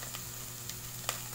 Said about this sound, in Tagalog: Maglalagay na tayo ng ating sibuyas, bawang.